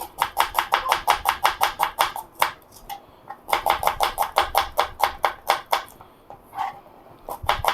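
Rapid rhythmic knife strikes on a cutting board while slicing onions for mutton biryani, crisp close-up chops in quick bursts with a short pause midway, no talk.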